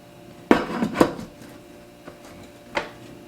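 Metal parts of a Nu Wave air fryer oven being set back in place, with two sharp close clanks early on followed by softer knocks and one more clack.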